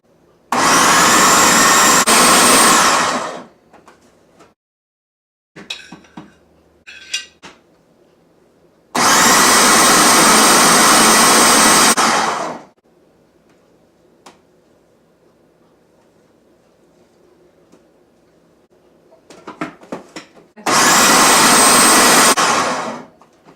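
An electric mixer churns sliced bananas for sugar-free coconut cookies. It runs in three loud, steady bursts of several seconds each, with quiet clinks and scraping between them.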